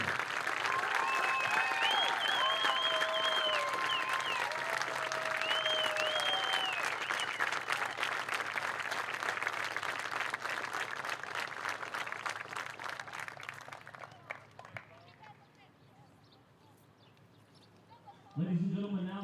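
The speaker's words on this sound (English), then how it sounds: "Everybody please give another round of applause to Mr." Crowd applause at a high school baseball game between Greenwood and Woodmont, sustained clapping and cheering from the stands over a loud announcer's voice and tones, fading out near the end before a brief louder burst.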